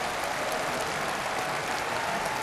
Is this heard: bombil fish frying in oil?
no